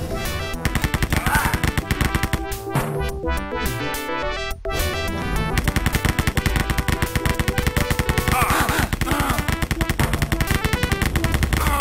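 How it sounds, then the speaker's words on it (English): Rapid, unbroken machine-gun fire in the Rise of the Triad game, dense repeating shots hammering on at close range almost nonstop, with a brief lull partway through and no talk. "your infinite bullets never stop shooting"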